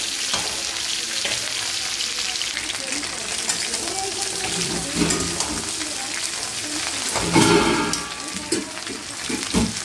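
Chicken feet being stirred and fried in a pan for a Bengali-style dish: a loud, dense crackling sizzle like heavy rain fills the whole stretch, with scraping stirs that build to a louder burst near the end.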